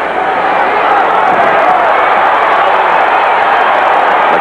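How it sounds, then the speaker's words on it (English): Boxing arena crowd at the Larry Holmes vs. Tex Cobb world heavyweight title fight roaring as Holmes nearly loses his footing, a steady, loud wash of cheering and shouting that holds throughout. "Crowd got whipped up a little bit as Larry almost lost his footing"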